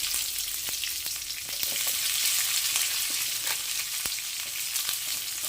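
Chopped onion frying in oil with dals for upma, a steady close sizzle with light crackles and stirring scrapes throughout.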